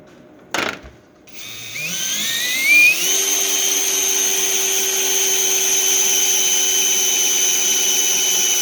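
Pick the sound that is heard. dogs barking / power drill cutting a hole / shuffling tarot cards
power drill cutting a hole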